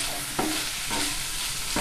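Pumpkin leaves being stirred in a pan over a steady background sizzle, with three distinct scraping strokes of the spoon spread evenly across the stretch, close and moderately loud, no voices.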